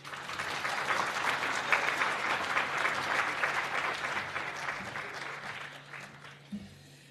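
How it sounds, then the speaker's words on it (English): An audience at a mathematics and science awards ceremony claps in steady, dense applause that fades slightly toward the end. "A bigger round of applause to him"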